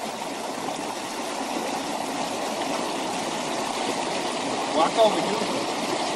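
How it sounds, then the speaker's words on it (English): Glacial meltwater flows out from under a melting glacier in Alaska, a constant close rushing stream filling the whole clip, with a person speaking briefly over it. "The water, again, coming out from under the glacier as it melts."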